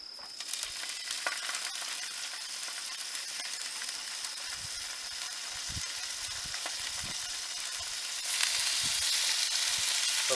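Maple flavoured bacon from Aldi sizzles and crackles steadily in a pan, a dense continuous frying hiss with scattered pops, growing a little louder toward the end, with no talking.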